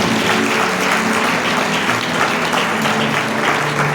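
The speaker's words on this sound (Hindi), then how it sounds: "तालियां बजाकर महिमा करेंगे परमेश्वर।" Loud, dense applause from a church congregation at a Sunday Christian service, steady and continuous throughout as the gathering claps in praise of God.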